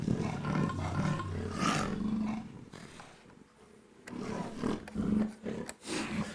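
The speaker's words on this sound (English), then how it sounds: "right now I'm turning the cutoff noise, and it's reacting to that" A synthesizer plugin with its cutoff being swept, moving from a softer roar to a full, beastly growl, loud and close with gaps and pulsing bursts near the end, no voices.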